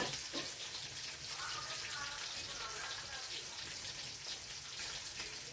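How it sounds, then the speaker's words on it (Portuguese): Sardines frying in oil over a wood fire, a constant fine crackling sizzle with faint popping, heard close and fairly quiet without talk. "Já estou fritando nossa sardinha aqui."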